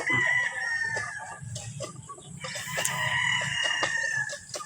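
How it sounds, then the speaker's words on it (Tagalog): Many chickens cluck and a rooster crows repeatedly at a farm, a dense, steady flock chorus with sharp crows rising above it throughout. "Napakaraming manok, mga kadiskarte."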